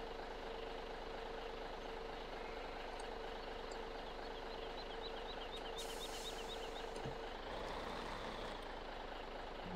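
Truck engine idling steadily as it reverses a trailer in Farming Simulator, a constant low rumble with a repeating series of high reversing beeps, then a brief hiss of air near the end.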